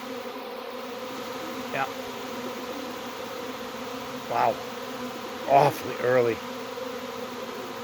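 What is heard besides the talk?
honey bee swarm buzzing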